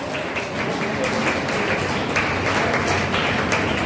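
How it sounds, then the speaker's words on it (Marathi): Sustained applause from the audience at a prize ceremony for a women's cooking competition, a dense, steady wash of clapping that carries on throughout with a voice speaking over it. "जोरदार टाळ्या मला वाटतं वाजत राहायला पाहिजे"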